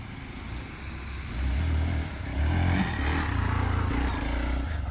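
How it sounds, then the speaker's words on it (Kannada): A Hero Xpulse 200 4V (2025 model) motorcycle engine roars and revs in rising surges during a stunt, with gravelly clatter underneath, heard from a moderate distance outdoors. "ಅಲ್ಲಿ ನಮ್ಮ ಸ್ಟೂಡೆಂಟ್ ಒಬ್ಬರು ಬೈಕ್ ಸ್ಟಂಟ್ ಮಾಡ್ತಾವ್ರೆ"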